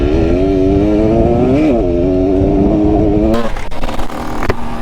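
A Husqvarna SM 125 supermoto engine with a knobby tire drones loudly and close at a steady high pitch, wavers, then cuts out into wind buffeting and clattering noise, sounding weak and struggling.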